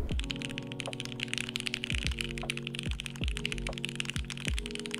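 A clacky gasket-mount mechanical keyboard is typed on at a steady pace, with sharp close keystrokes alone under a faint hum.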